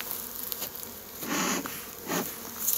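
Honey bees buzz around an opened beehive, a faint, steady hum with several individual bees swelling louder as they fly close past, nearby and outdoors, with no talking.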